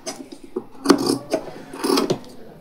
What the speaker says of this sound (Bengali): তো এই কাপড়টা কাট করি।